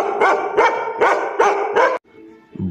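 A Bhote dog in Nepal barks loudly and close, five heavy, evenly spaced woofs, followed by a brief quieter, lower sound at the end.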